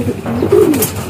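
A racing pigeon gives a single close, clear coo during loft training, a low rolling call heard alone over faint background.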